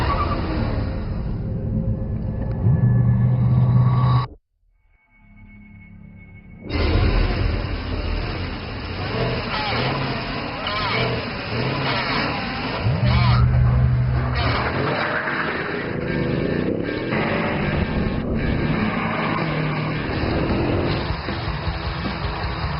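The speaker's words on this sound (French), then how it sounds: "On les aligne sur une piste de type dragster sur près de 1000 mètres et on donne le départ pour voir laquelle est la" V8 sports sedans, including a BMW M5, launch side by side down a drag strip nearly 1000 metres long, with loud engine roar, a brief dropout, then sustained rumbling acceleration throughout.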